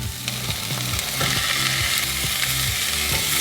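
Sliced Steak-umm steak sizzles in a pan, a loud, continuous crackling fry with rhythmic scraping or stirring knocks throughout, heard close and alone.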